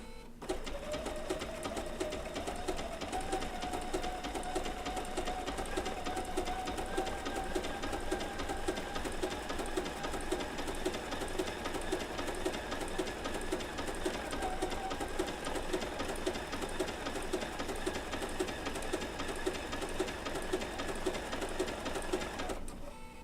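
Bernina B790 PRO sewing machine stitching down wool applique with an open toe foot, a steady, close mechanical whir of rapid needle strokes running evenly throughout, the motor pitch drifting slightly higher, with no talk.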